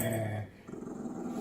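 A dog growls with a toy in its mouth during rough play beside a treadmill at home, a low, close rumbling growl that pauses briefly partway through and then resumes.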